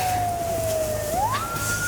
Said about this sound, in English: There's gunshots, there's sirens.